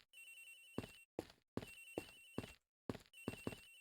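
In the Ace Attorney Investigations video game, a telephone rings in repeated bursts of bright electronic trills separated by short silences, faint and fairly distant.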